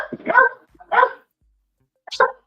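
A dog gives three sharp barks, two close together and a third after a pause, loud and close against otherwise quiet surroundings.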